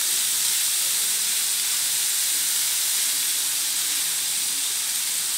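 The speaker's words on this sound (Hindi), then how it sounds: "दो से 3 मिनट तक इन्हें हम इसी में फ्राई करेंगे ताकि जो शीरा वो अच्छी तरह से गाजरों के साथ मैच हो जाए" Carrots frying in hot sugar syrup in a pot for Afghani pulao, a steady loud hiss and sizzle that runs unbroken throughout with no voices.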